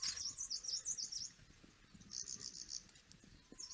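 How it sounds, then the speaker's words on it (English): Repeated bleating calls of a male tragopan, played back from a recording, come as bursts of high, wavering notes, loud at first, then briefly quieter and returning near the end. "the bleating sounds that these male tragopans make"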